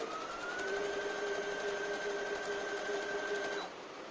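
A Brother FS101 sewing machine stitches at a long stitch length, a steady whirring hum with a whining motor tone that runs for a few seconds and then stops.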